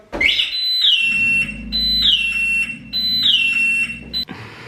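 Electronic car alarm going off in a workshop where cars are built, a loud piercing siren cycling through repeated rising-and-falling whoops with a low droning hum beneath, then cutting off abruptly near the end.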